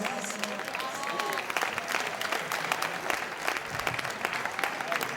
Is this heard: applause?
yes